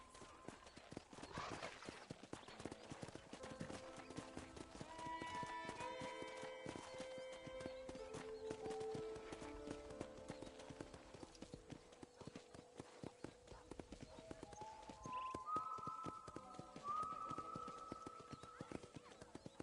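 Horse hooves clip-clop steadily on the ground in the remastered Red Dead Redemption on PS5, a continuous trotting rhythm close by, running under game music with no talk.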